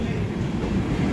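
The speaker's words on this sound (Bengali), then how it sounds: "আর এই চলে আসছে ভিস্টাডোম" A Vistadome train on the Araku Valley line pulls into a crowded platform, a brief, steady low rumble of rolling carriages heard alone.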